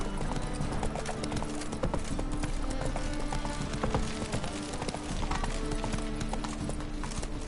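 Roach the horse in The Witcher 3 gallops with steady, rapid clip-clop hoofbeats that run continuously, close and loud over a dense game soundscape, with a brief whinny.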